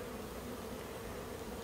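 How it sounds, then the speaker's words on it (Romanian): Bees buzzing at the entrance of a hive, a dense continuous hum close by, steady and fairly faint. "pe aici intră albinele și pe acolo pe horn"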